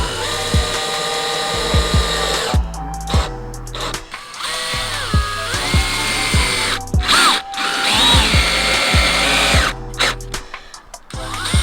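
A power drill drives screws into barn door boards in bursts of whirring, rising and falling as each screw seats, with short pauses and clicks between the loud close runs.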